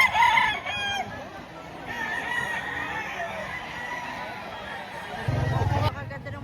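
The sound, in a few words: rooster crowing, bull stag gamecock at market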